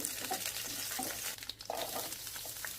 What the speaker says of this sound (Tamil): இப்போ ஒரு பேன்ல கொஞ்சமா எண்ணெய் ஊத்தி கருவேப்பிலை கிள்ளி போட்டு பொடியா நறுக்குன ஒரு வெங்காயத்தை சேர்த்து நல்லா வதக்கிக்கோங்க